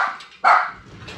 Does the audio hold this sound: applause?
no